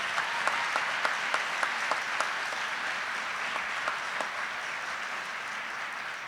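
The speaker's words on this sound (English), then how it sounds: "Please join me in a round of applause for all those who supported our newest aviators." A large audience claps at a U.S. Army flight school graduation, a sustained even wash of applause with a few distinct louder claps rising near the start, holding steady throughout without talk.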